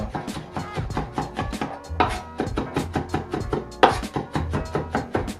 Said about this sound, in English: you know how to mince garlic